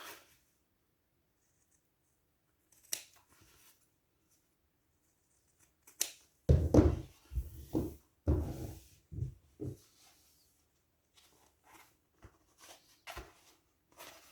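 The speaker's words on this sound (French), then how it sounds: "On dégage les angles en faisant attention de ne pas couper" Scissors snip and trim excess fabric at the seam corners of a small sewn pouch, a series of close, quiet cuts and fabric rustles with pauses between them.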